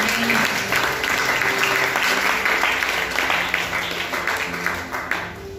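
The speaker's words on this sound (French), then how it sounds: "Acclame Jésus." Church congregation at a fasting and prayer service applauding Jesus, dense sustained clapping from many hands filling the room, steady and loud before tapering slightly at the end.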